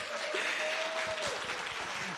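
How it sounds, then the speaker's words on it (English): An audience at a talk on faith, freedom and feminism claps steadily and densely throughout, a full, even wash of applause with a faint sustained tone and a few voices underneath. "Give her a round of applause."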